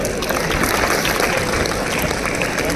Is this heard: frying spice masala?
no